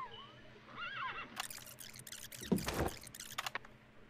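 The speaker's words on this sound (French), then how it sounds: "Il y avait un bruit de cheval." A horse whinnies with a wavering, rising-and-falling call in the video game Metal Gear Solid: Peace Walker, set in a Costa Rican jungle. It is followed by bursts of game noise, with no talking.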